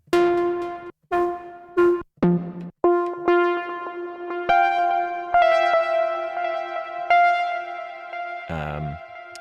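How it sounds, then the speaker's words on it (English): A bright, plucky synth plays a short melodic phrase of separate notes, clean then with sustained echoing tails, ending in a lower wobbling tone. "So pick a little plucky noise."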